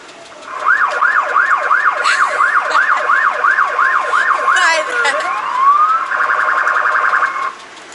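A police car siren wails loudly and close by in Brazil, sweeping up and down in steady repeated cycles, then shifting briefly before switching to a rapid yelping pattern that stops abruptly.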